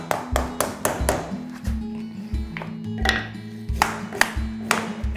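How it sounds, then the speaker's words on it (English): Repeated sharp hammer taps knock vinyl plank flooring into place, a steady run of crisp knocks with short pauses, close by, alongside low tonal rings and clinks. "we're gonna hammer this down"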